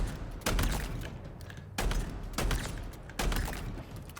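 Bulldog shotgun in Halo Infinite firing three heavy blasts, each a loud broadband boom with a rumbling tail, spaced about a second and a half apart with no talk.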